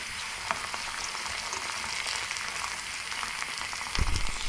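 Curry leaves, onion and panch phoron fry in hot oil for urad dal, a dense continuous sizzle close by with a brief louder stir near the end.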